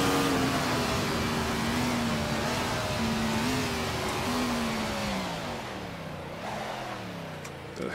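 Race car engine from a Grand Prix Legends mod in Assetto Corsa, played in VR, held at steady high revs with harmonic tones sliding up and down through gear changes, loud and continuous throughout, with no voices.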